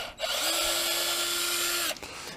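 A small power screwdriver or drill whirs steadily for about one and a half seconds, backing out the spur gear cover screw on a Traxxas Slash LCG Platinum edition RC truck, close and alone.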